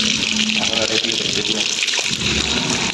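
Water running steadily as a washing machine drum fills at home, a continuous broadband rush with a voice talking over it.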